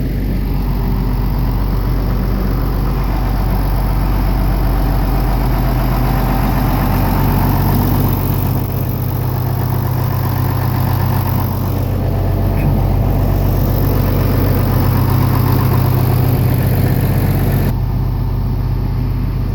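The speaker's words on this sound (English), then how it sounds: "Got the 4430 warming up a little bit." A John Deere 4430 tractor idles while warming up, its diesel engine holding a steady, loud low rumble with a constant hum throughout and no voices.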